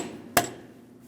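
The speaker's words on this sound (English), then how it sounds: "I'll lightly tap on it with a hammer." A hammer lightly taps a ball joint separator tool while replacing a front lower control arm on a 2005-2010 Chrysler 300, a single sharp metallic tap standing alone in a quiet garage.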